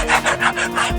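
The fiber edge of a handmade slipper is rubbed smooth in quick rhythmic strokes, about five rasping passes in a second, close and fairly loud with no talk.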